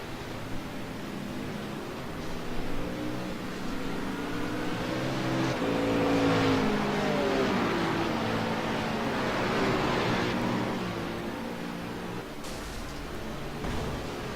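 A race car pulls out of the pit and back onto the track, its engine note swelling and rising in a long smooth sweep that peaks midway and then fades slightly, with no voices.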